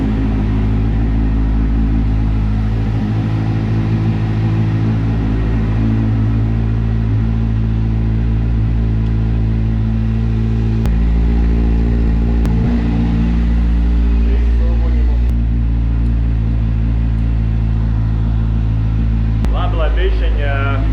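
Kawasaki Z1000 motorcycle engine fitted with dB killers idles steadily with strong low rumble, loud and close, with a few brief throttle blips and a voice speaking under it near the end.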